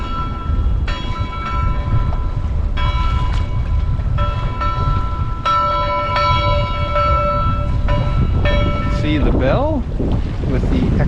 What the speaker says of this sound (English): This one's an actual bell.